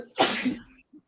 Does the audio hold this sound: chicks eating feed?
no